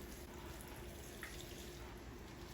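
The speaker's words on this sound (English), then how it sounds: "So we're gonna go ahead and give them a nice soak, some nice warm water" Warm tap water runs steadily into a sink to soak potted houseplants, a continuous close wash of flowing water with no talking.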